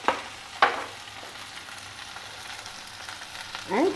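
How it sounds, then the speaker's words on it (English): Chopped bhindi (okra) stir-fries in a pan with turmeric over high heat, giving a faint steady sizzle broken by a few brief scraping stirs, with a louder scrape at the end. "now add in this chopped bhindi to it"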